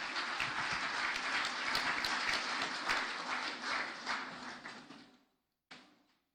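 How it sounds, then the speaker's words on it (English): Sustained applause from a large audience welcoming a parliamentary speaker to an inaugural address, dense and steady for about five seconds before cutting off, followed by a short final burst of clapping. "Let us welcome her with a thunderous applause."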